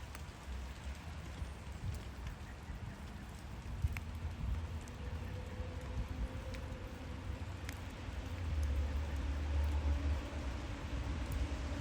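Rain falling on a cold morning, a continuous soft patter of drops on surfaces with occasional sharper drips and a low background rumble like distant traffic, fairly faint and steady, with no talking.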